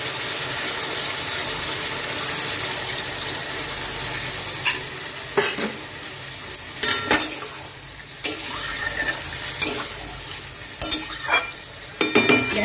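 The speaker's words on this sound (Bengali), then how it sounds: "এবার আমি বাটি ধোয়া জল সামান্য করে দেবো।" Bowl-rinsing water is poured into spice masala frying in oil for a cauliflower roast, setting off a loud, steady sizzle with scattered splashy bursts and stirring clatter throughout.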